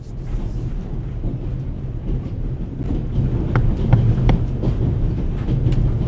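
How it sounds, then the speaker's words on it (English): Train running in the video game The Raven – Legacy of a Master Thief aboard the Orient Express, a loud, steady low rumble with rhythmic rattling and faint clicks of the carriage, continuous throughout with no talking. "The noise on this train is driving me crazy."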